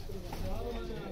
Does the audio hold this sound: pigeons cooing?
yes